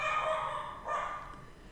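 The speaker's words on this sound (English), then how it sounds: "Lots of barking." A short burst of barking from dogs in the video game Shantae and the Seven Sirens, two quick back-to-back barks standing out clearly over a steady background hum.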